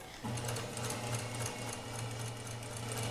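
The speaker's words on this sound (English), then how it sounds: "I also have a 1/4 inch seam line on my machine, which will help me sew this straight." A sewing machine fitted with a quarter-inch foot stitches fabric in a steady, rapid mechanical whir. It starts after a brief pause and runs continuously, close and clear, with no speech.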